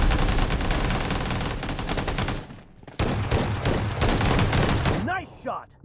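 Dense bursts of rapid gunfire from a shooter video game, loud and close, in two long volleys separated by a brief pause, with a short voice at the end.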